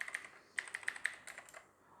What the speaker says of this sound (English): let's just test the keys. Yeah, typical blue switches, clicky, tactile.